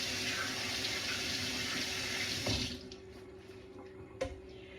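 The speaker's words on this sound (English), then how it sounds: "Let me just wash my hands," A kitchen tap runs full and loud over a sink during hand washing, then shuts off after a few seconds, leaving a quiet room with a sharp knock and small drips.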